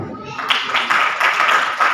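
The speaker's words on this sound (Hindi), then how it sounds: "तालियां।" A crowd at a human rights commission seminar in Pakistan bursts into applause after a brief pause, a steady wash of many hands clapping that carries on, with faint voices mixed underneath.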